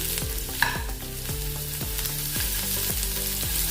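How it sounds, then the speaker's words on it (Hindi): Onions fry in hot oil in a kadhai, a steady sizzle with rhythmic scraping strokes of a spatula repeating about every half second, over a low background hum. "थोड़ा देर इसको भून लेंगे।"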